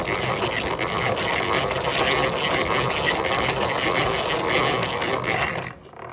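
Stanley 77 dowel machine with its cutter shaping a wooden stick into a dowel, a loud, steady, rattling mechanical whir with fast rhythmic clatter that cuts off near the end.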